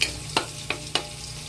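Garlic frying in oil in a pan: a steady close sizzle with three short, brighter crackling bursts spaced evenly across the clip, no voices.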